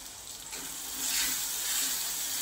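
Tomatoes frying in a pan with asafoetida and turmeric, a steady sizzle that grows louder and brighter partway through, continuous hiss with no voices.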